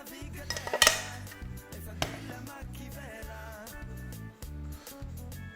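A small saucepan picked up by its little handle and set down among clattering pots, pans and cutlery in a kitchen, with a string of clinks and knocks over a steady low hum.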